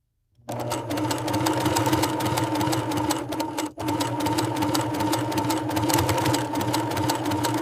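A factory sewing machine stitches a strap with a loud, fast, steady mechanical whir that breaks off briefly midway and then resumes, close up.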